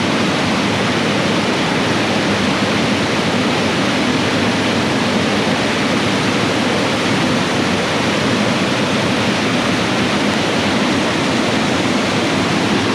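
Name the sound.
rushing creek water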